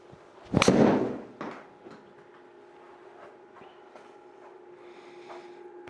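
A golf club strikes a ball off the tee into a Square Golf simulator with one sharp, loud impact, followed by a shorter knock and then a quiet room hum.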